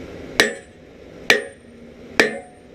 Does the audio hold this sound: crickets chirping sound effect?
no